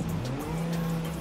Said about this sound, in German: Alter, ist hier viel Verkehr.